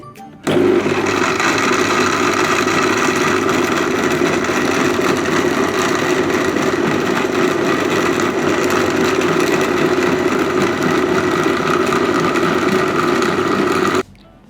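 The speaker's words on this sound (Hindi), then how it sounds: "इसका ढक्कन बंद करें और इसे ग्राइंड करना शुरू करें।" A kitchen blender grinding falsa berries with water, salt and sugar into sharbat, a loud steady motor whine that starts abruptly, holds constant for about thirteen seconds and then cuts off, with no talk over it.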